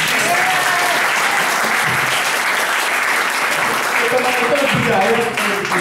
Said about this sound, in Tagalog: palakpak tayo ulit